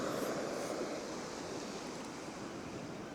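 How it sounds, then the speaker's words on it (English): Sea waves wash steadily onto the shore near Porth Wen on Anglesey, a soft, continuous rushing surf heard from a short distance, with no voices. "listen to the waves."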